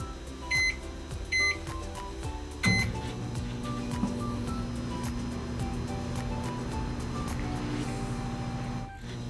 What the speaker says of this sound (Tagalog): Pasok natin sa microwave.